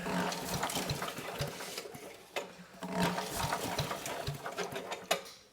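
A Craftsman chipper with a 5 horsepower Briggs & Stratton engine runs close by, its rapid rough chugging punctuated by sharp knocks and bursts as it works through material.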